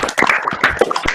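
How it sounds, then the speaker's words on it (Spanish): Applause at a closing session of an international symposium: a short burst of hand clapping from a gathered audience, fairly loud and close, with overlapping claps and no speech. "Hagamos un aplauso."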